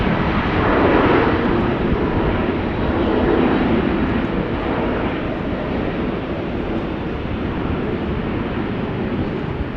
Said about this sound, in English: Embraer 190 to Nantes.